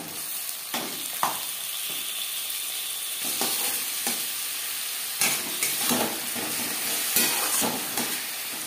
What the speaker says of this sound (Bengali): পেঁয়াজ হালকা করে ভাজা হয়ে গেছে। এই পর্যায়ে দিয়ে দেব ম্যারিনেট করে রাখা চিকেন।